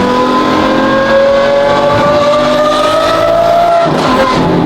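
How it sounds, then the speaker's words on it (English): A Lamborghini Aventador SVJ with an aftermarket Gintani F1 exhaust revs loudly and close, with a steady high-pitched exhaust tone that climbs, then drops off briefly before building again. "There's so many Aventador exhausts and they all sound the same. This sounds completely different."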